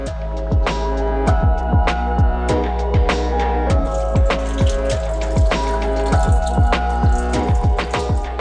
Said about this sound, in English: That's the planting done, so now we can finally add water.